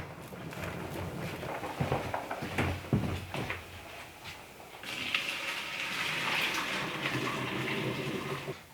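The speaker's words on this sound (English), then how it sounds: "Drain your pasta." Cooked gluten-free spaghetti is tipped into a strainer, with water gushing and splashing steadily for several seconds close by, dotted with a few clanks of the pot.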